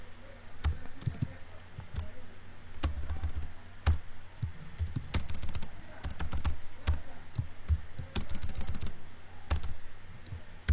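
Computer keyboard typing while entering text into an Excel spreadsheet, with irregular bursts of close, crisp key clicks separated by short pauses throughout.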